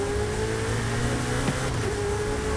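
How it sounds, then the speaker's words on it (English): A V8 car engine in Forza Horizon 5 holds a steady, moderately loud drone with even tonal bands, sounding alone without speech. "The car also has a pretty clean engine noise"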